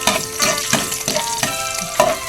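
Garlic drops into hot cooking oil and fries with a loud, steady sizzle, punctuated by rhythmic bursts of crackling as it is stirred, close and clear with no talking.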